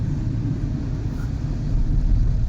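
A large heavy vehicle rumbles past on a road near Lonavala, a steady low engine drone that swells slightly toward the end, with no voices.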